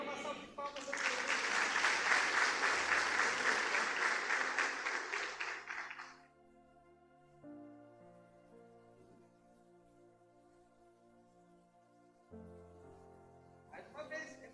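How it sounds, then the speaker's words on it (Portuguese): A church congregation at a worship service bursts into loud, full applause for about six seconds, then fades as soft sustained music carries on alone. "Dê uma salva de palmas ao Senhor."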